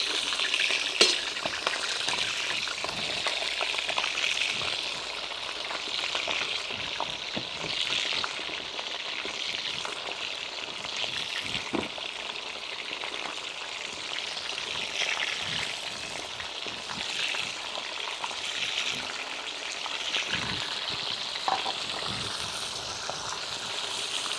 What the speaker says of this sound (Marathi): डायरेक्ट आपण चिकन शिजायला टाकणार आहे आणि फक्त मीठ टाकणार आहे